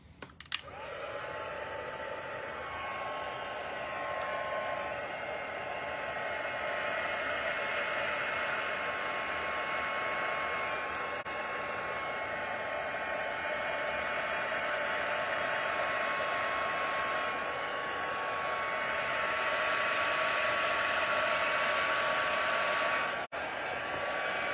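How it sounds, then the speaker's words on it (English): Heat tool blowing to dry alcohol ink on vellum, a steady whooshing hiss running continuously for over twenty seconds after a click on, then cutting off near the end. "I'm bringing in my heat tool"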